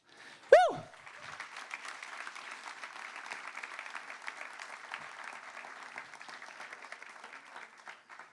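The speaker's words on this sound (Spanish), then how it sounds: "dan un aplauso al Señor" Church congregation applauding at a pastor's call to praise the Lord, a sharp whistle-like sweep at the start then steady, moderately faint clapping sustained across the whole stretch.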